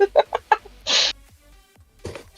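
A short, squawky, duck-like reaction sound effect comes as a brief loud honk. Before it are several clucking, quacky chirps, and a fainter call follows a moment later.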